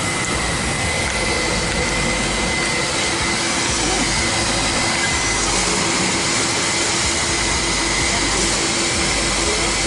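A vacuum cleaner drones loud and close without a break, a dense roaring hiss with a steady whine on top.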